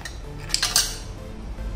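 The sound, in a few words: ice cubes dropped into mixer jar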